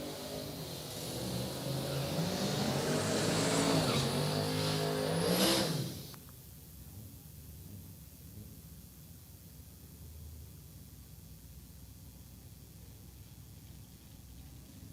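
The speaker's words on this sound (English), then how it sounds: "Colin G coming up in a little small tire Chevy Malibu station wagon on the right side." Chevy Malibu station wagon on small tires drag racing in the Rowdy Radial class, a loud engine roar climbing in pitch over several seconds before cutting off abruptly, leaving a quieter steady background noise.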